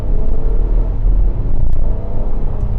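A 2025 Acura MDX engine pulls at about half throttle in normal mode during a tight low-speed turn, a steady, loud, low rumble heard from inside the cabin.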